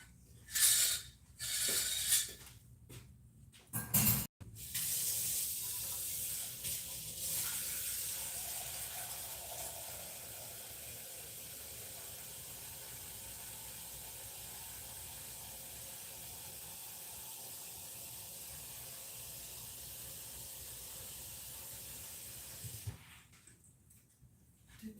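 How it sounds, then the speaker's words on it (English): Tap water runs steadily into a cooking pot in a home kitchen, a constant hiss of filling after a few clunks of handling, then the flow stops near the end. "I'm going to go ahead and put water in here and get this cooking."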